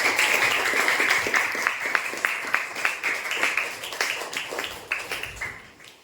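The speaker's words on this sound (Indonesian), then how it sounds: "Tepuk tangan buat yang sudah menjawab." Children at an elementary school clapping for classmates who answered, a steady rapid patter of many small hands that gradually thins and fades, with no talk over it.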